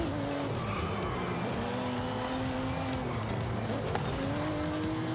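In Forza Horizon, a car skids with a loud, sustained tire squeal over a revving engine, the screech rising and falling continuously throughout with no voices.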